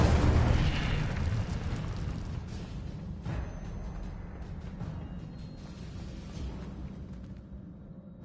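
Incendio fire spell cast in Hogwarts Legacy, a loud roaring burst of flame that starts strong and fades slowly over several seconds.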